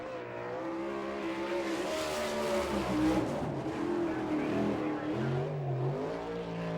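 Winged sprint car engines racing on the first lap at Fremont, Ohio, loud and close, with rising and falling revs and tire noise through the corners.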